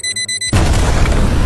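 A robot toy car sounds a red alert alarm of quick pulsing electronic beeps, then a loud, close explosion blast cuts it off and trails into a rumbling roar.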